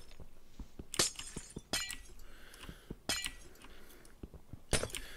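Minecraft glass blocks shatter in quick succession, a string of bright crashing breaks with tinkling clinks and softer taps between them, irregularly spaced and fairly close.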